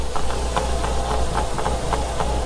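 A repaired engine runs steadily at idle, a continuous low hum with faint, regular rhythmic ticking on top, close by and with no one talking.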